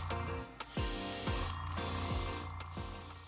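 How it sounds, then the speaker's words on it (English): Kaleido K302 Cosmic Black Pearl paint is sprayed in light mist coats onto a model Nissan Skyline GT-R body, with soft repeated hissing bursts from an airbrush amid faint background noise. "This is sprayed in light mist coats to prevent runs or poor paint buildup."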